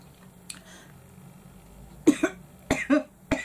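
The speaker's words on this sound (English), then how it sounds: "As you can see, I've still not got rid of this cough." Several harsh coughs burst out close by in quick succession after a quiet stretch, the last ones coming in a tight cluster.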